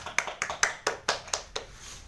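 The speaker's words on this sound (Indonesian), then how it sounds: "silakan kita tepuk tangan dulu dong" A school class clapping hands in a science lesson, about eight distinct, fairly quiet claps in a loose, slightly uneven rhythm, with no talking over them.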